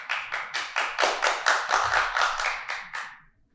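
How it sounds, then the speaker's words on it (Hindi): Loud, steady applause from an audience, a dense run of hand claps lasting a few seconds before fading out, with no talking over it. "आपके साहबजादे बैठे हुए हैं और इतनी जोरदार ताली पीट रहे हैं कि सबको ताली बजानी पड़ रही है।"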